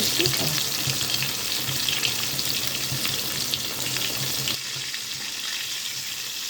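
Chicken strips frying in oil while being turned, a close continuous sizzle with bubbling crackle that suddenly drops quieter partway through, no voices present.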